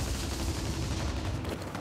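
Dense, sustained gunfire from a Warzone match, a continuous loud barrage of overlapping shots with booming low end, steady throughout with no voices over it.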